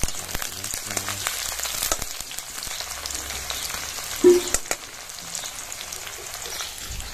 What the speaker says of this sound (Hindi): अभी हमारे प्याज जो है फ्राई हुआ थे